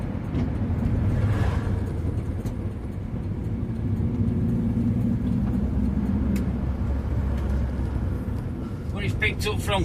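A Ford Zephyr V4 car cruises in top gear at low speed, its steady engine rumble and road noise continuous and close throughout. Faint speech is occasionally present under the engine.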